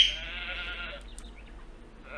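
Sheep bleat in the medieval life-sim game Medieval Dynasty, a short quavering call up front that tails off, followed by faint scattered noises and a quieter bleat near the end.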